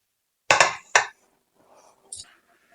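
A few sharp crisp clinks and rattles of fried sweet bread snacks against a pan, close by, followed by a faint lighter clatter.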